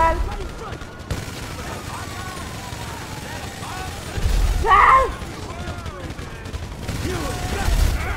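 Bursts of gunfire in the game GTA 5 during a heist, loud shots over a busy game soundtrack, with people talking and shouting throughout.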